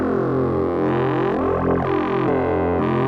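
A synthesized FM bass tone, heavy and buzzy with a rich stack of harmonics, sustains for about three seconds, its timbre shifting and sweeping in waves as it spreads across the stereo field, then cuts off abruptly.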